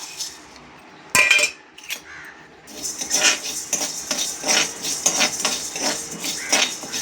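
Coriander seeds and peppercorns dry-roasting in a pan while making sambar podi, with a loud scraping stir near the start, then steady close clinking and scraping of a utensil against the pan.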